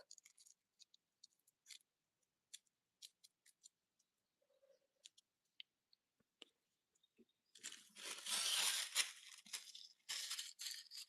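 Yellow tissue paper crumpled by hand: scattered soft ticks and crinkles at first, then a loud, dense burst of crinkling that runs through the end with a short pause.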